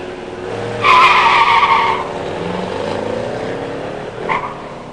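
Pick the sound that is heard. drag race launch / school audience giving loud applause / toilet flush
drag race launch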